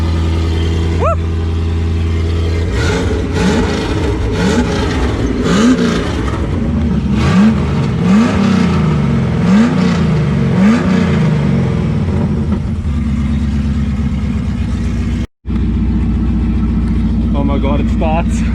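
An LS1 V8 swapped into a Nissan Patrol cranks, catches and idles loudly, then gets several rising-and-falling revs before settling back to a steady idle, with excited voices close by over the engine.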